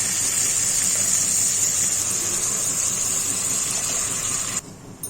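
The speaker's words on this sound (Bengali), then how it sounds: "অল্প জল দিয়ে দিলাম" Water pours steadily into a pot of cooking ash gourd, a continuous close gushing splash that stops abruptly near the end.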